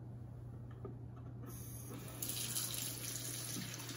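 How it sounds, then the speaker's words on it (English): Tap water runs steadily into a sink as a small MIOPS Splash device is rinsed, a constant hiss that swells louder and brighter partway through as the water hits the plastic part, with no talking. "So I'm just going to rinse this out now."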